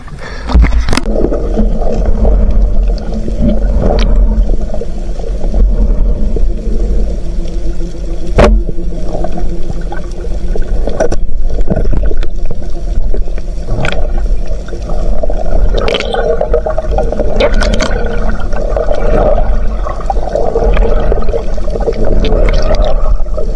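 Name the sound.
strong wind and waves around a boat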